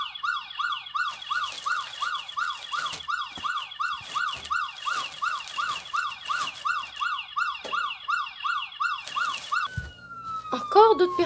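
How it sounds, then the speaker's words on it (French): An ambulance siren wails, cycling rapidly up and down in steady repeated sweeps, fairly close, then shifts to a different tone near the end as traffic rumbles. "l'ambulance devrait pas tarder"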